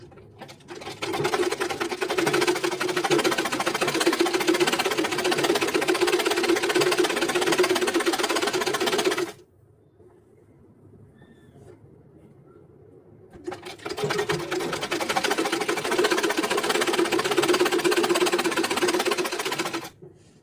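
A sewing machine stitches a blouse seam in two loud, steady bursts of rapid mechanical clatter, separated by a quiet pause of a few seconds.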